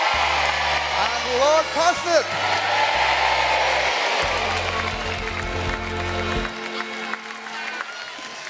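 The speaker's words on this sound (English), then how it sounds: "A huge cheer for our scarecrows" A crowd's cheering and applause rises around a live children's farmyard stage show honoring scarecrows, loud and sustained beneath music and a voice talking over it.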